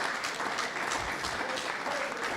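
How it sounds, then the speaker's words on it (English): An audience at a Nigerian energy marketing company's annual general meeting gives a hand of applause for an honoured member, a continuous, even wash of clapping throughout. "And I would like the members to please appreciate Mrs. Bome Kokwola Mondi on our behalf by a hand of applause"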